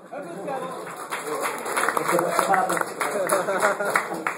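Audience applause at an Android user group meetup, a sustained round of many hands clapping with chatter and voices underneath.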